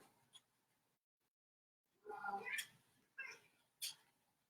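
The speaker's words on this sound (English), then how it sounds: "You want to get out, kitty cat?" A house cat meows several times, faint and nearby: a quiet chirp, then a longer drawn-out meow and two shorter meows spaced apart, in a quiet room.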